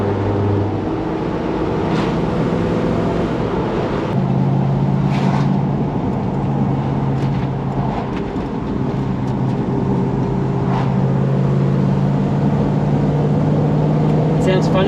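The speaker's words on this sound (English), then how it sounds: "It sounds funny with the exhaust out the sides, eh?" A Toyota Hiace van with a 1UZ-FE engine and side-exit exhaust idles steadily with a leaking exhaust, giving a constant low drone and hum throughout.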